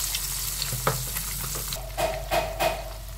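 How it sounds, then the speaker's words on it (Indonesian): Half a kilo of cut tongkol tuna pieces sizzling steadily in oil in a pan, with a few louder crackling bursts toward the end and no voices. "Tongkol potongan. Setengah kilo kita goreng."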